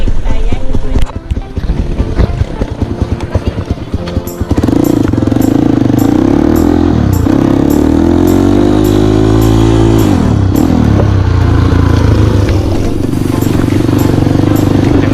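A loud, close enduro trail motorcycle engine runs steadily, its pitch rising and falling as it revs up through the middle before settling back to a rumbling idle.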